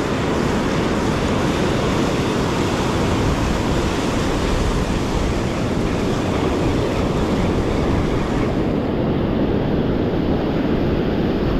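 Steady, loud roar of surf crashing continuously, with broadband wash and some wind noise throughout, no voices.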